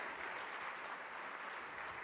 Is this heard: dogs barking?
no